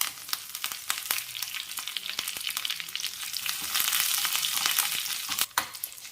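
Green chillies and curry leaves frying in hot coconut oil with mustard seeds, a steady crackling sizzle with scattered sharp pops, close and fairly loud throughout, with no voices.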